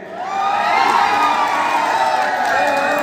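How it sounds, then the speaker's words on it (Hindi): Children at a U-19 boys' zonal tournament prize ceremony cheer and shout in a loud, continuous crowd roar with high-pitched whoops, swelling in after a brief lead-in and holding steady throughout. "बच्चों जोरदार तालियां"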